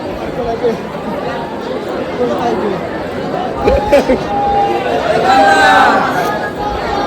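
A dense crowd of devotees at the Jejuri temple fills the air with continuous loud chatter and overlapping voices, close and unbroken throughout.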